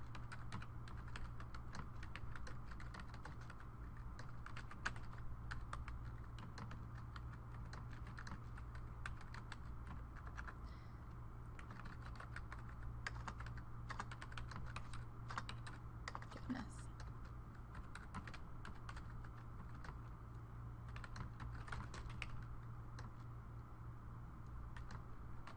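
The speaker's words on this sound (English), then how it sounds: "I'm going to switch over here and type those up for you." Rapid, irregular clicking of typing on a computer keyboard during a math lecture, continuous and close over a steady low electrical hum, with occasional talk.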